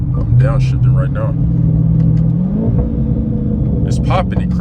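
Dodge Scat Pack with a mid-muffler delete downshifting, its engine note dropping and surging in a loud, close rumble while someone talks over it.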